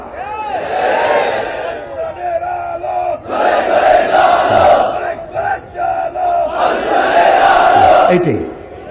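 A large crowd chants a slogan in unison, loud and rhythmic, with voices rising and falling in repeated phrases.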